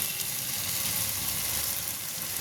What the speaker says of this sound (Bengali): কাঁচা চিংড়িগুলো দিয়ে দিচ্ছি, দিয়ে আমি একটু কষিয়ে নেবো ভালো করে।